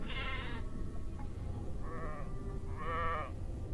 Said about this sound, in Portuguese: Em seguida a gente pode ouvir ovelhas balindo